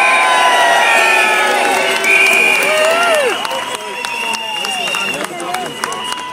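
A protest crowd at a water charges rally in Dublin cheers and shouts, loud at first and then easing off, with whistles and scattered voices mixed in and a speaker talking over it.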